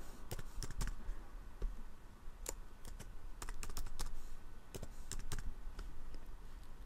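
Someone types a password on a computer keyboard in a quiet room. Irregular bursts of crisp key clicks follow one another for several seconds.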